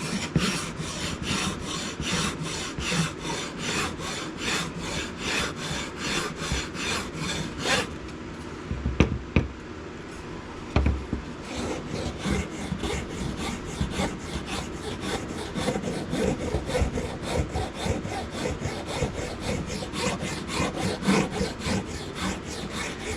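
A file rasps steadily across a wooden wand in rapid back-and-forth strokes, close and loud, with a brief pause partway through before the rhythmic scraping resumes.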